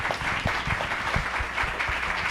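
An audience at a faith-community panel event gives a round of applause: a steady, dense wash of clapping hands, fairly faint and even throughout, with no voices standing out.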